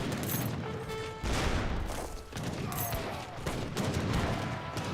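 Heavy cannon artillery fire in Age of Empires 3 battle, a dense continuous barrage of booms and crashing impacts, loud and sustained with surging bursts throughout.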